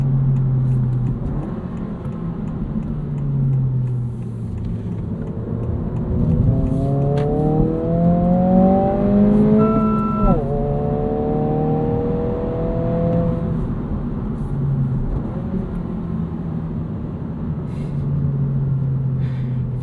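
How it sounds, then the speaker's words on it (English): A 2025 Honda Civic Si in sport mode accelerates hard from inside the cabin, engine note climbing steadily through the revs to a peak, a brief shift, then rising again before settling into a steady drone, with no talk. "Let's go sport mode. This is going to sharpen some things up for us and pipe in some of this engine noise"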